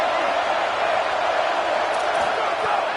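A stadium crowd roars steadily at a college football game, a dense, unbroken wall of cheering with faint whoops, loud and sustained throughout.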